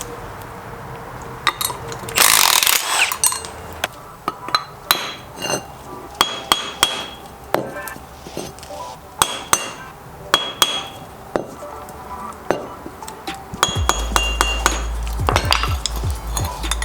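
A hammer taps on a motorcycle sprocket during a chain and sprocket install, giving a run of sharp metallic knocks at an uneven pace, close and fairly loud, with a heavier rumbling clatter near the end.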